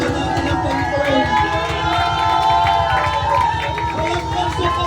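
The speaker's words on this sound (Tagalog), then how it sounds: "Palakpakan natin ang Panginoon." A church congregation claps in a fast steady rhythm during an afternoon worship service, loud and close, mixed with cheering, crowd voices and music.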